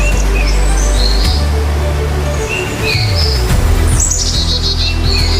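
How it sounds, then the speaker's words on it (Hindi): Birds chirp and call in the morning in the green hills of Dang, scattered tweets and short phrases rising over a steady loud low rumble of wind or traffic throughout. "सुबह सुबह पक्षियों की चहचहाहट मानो आपको एक नई सुबह का तोहफा देती है।"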